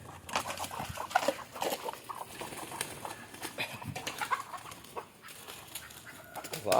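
Native country chickens at feeding time with rice bran, clucking steadily nearby in a busy backyard with no one talking.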